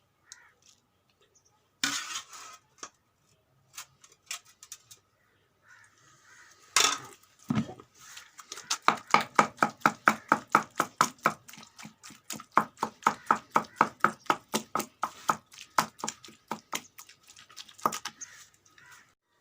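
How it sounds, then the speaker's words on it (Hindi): Boiled spinach being ground by hand the traditional way for aloo palak, a long run of rhythmic wet pounding strokes, steady and close, after a few scattered knocks at the start. "ये जो हमारे पास गली हुई पालक है, इसको हम अच्छी तरह ग्राइंड करेंगे।"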